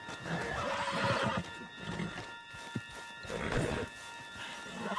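A horse whinnies loudly over a busy Red Dead Redemption 2 game soundscape with steady background music and hoofbeat-like clatter.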